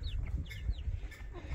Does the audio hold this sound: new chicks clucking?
yes